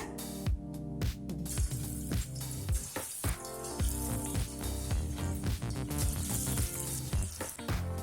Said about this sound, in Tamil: இப்போ கடாயில சிக்கன் 65 பொரிக்கிறதுக்கு தேவையான அளவு எண்ணெய். இப்போ சிக்கனை சேர்த்துக்கலாங்க.